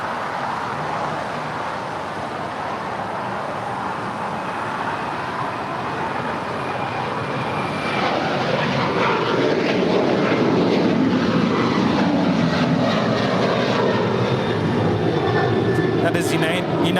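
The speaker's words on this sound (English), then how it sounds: "That is United 1621 departing to Orlando, a 7-year-old 737-900ER." United 1621, a seven-year-old Boeing 737-900ER, departs LAX for Orlando on runway 25 right, its engines a loud, steady roar that builds midway, with talk layered over it.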